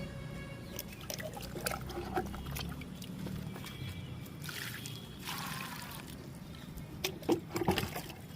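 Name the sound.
pouring water on newly planted marigold plants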